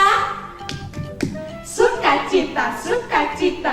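A church children's worship audience does a rhythmic joy clap, a few sharp claps at first, then mixed with lively group chanting and voices.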